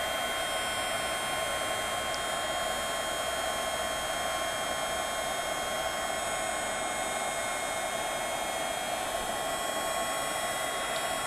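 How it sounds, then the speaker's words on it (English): Heat embossing tool blowing steadily over white detail embossing powder on a card, a continuous close hairdryer-like whoosh with an even high whine and no pauses. "So now I'm going to emboss this using the heat tool"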